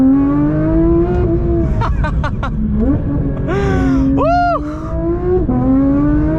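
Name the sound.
Porsche 992 GT3 engine accelerating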